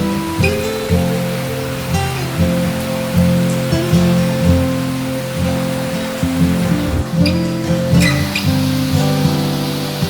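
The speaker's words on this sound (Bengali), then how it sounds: "গ্রামের বাড়িতে টিনের চালে বৃষ্টির পানি পড়ার শব্দটা আমার অনেক পছন্দ" Rain falls steadily on the tin roof of a village house, a dense, even patter that holds for the whole stretch with faint low hum underneath and no talking.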